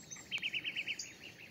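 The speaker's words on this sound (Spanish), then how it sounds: "Pues escuchamos los pájaros, los vemos, la fauna entera." A small bird in a vegetable garden sings a quick run of about eight bright, repeated chirps, faint and a little distant over a quiet outdoor background.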